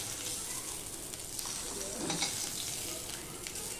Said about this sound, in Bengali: এবার আমি এই যে চাল কুমড়ো সিদ্ধ করে রেখেছি ওখানেই রেখে দিলাম।